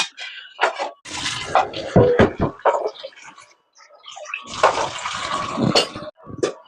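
Cold water runs over boiled Maggi noodles in a strainer, heard as close bursts of splashing, gushing water that break off briefly midway and then surge again.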